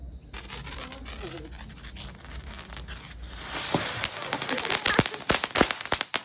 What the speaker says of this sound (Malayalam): ഞങ്ങൾ മാറി മാറി പടക്കം പൊട്ടിയൊക്കെ ആഘോഷിക്കുകയാണ്.